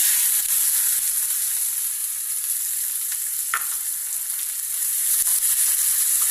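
Chopped onion frying in oil in a pan over a low flame, a steady close sizzle with a soft crackle and a brief stir midway.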